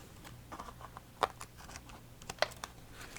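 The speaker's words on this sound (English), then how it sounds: "I'm just taking the Tonic Mini Recoil Scissors and trimming off extra bits and pieces." Tonic Mini Recoil scissors trimming small bits of paper in a craft session, a few quiet sharp snips and light rustles, two clearer cuts standing out, no talking.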